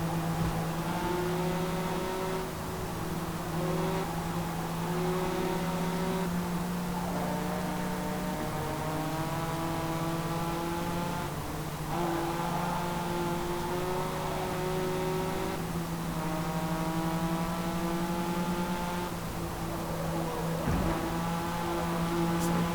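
A race car engine in Forza Motorsport runs at steady high revs on a race circuit, with its tone climbing and dropping through gear changes over a long continuous stretch, loud and close, with no talk.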